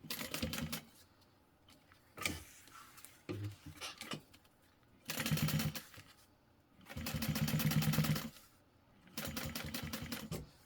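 Sewing machine stitching an Annette handbag from Swoon Patterns, running in several loud bursts of rapid mechanical stitching separated by short quiet pauses and softer handling clicks.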